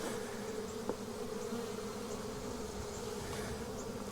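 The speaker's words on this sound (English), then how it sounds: "these bees right here are fanning, spreading the pheromone of the queen that's in there somewhere" Honey bees fanning at the entrance of a hive holding a late-July swarm, a steady close buzzing drone with a faint tonal hum, continuous and alone.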